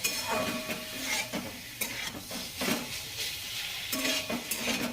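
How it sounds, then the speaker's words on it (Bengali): Taro stolons (kochur loti) stir-fried with spices in a pan, a steady sizzle broken by repeated scraping stirs of a spoon against the pan, close and fairly loud throughout, with no talking. "লতির সাথে আর একটু কষিয়ে নেবো।"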